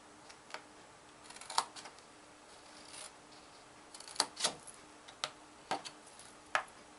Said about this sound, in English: our center squares, we're going to cut straight up.